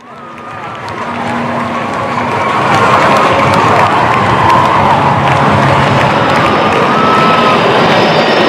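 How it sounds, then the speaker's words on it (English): A large outdoor crowd on Chennai's Marina beach cheers and shouts loudly at an Indian Air Force airshow, a dense, sustained roar that swells after the first few seconds and holds steady with scattered raised voices. "give them a big round of applause"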